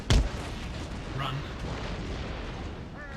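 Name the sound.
artillery fire in video game Empire Total War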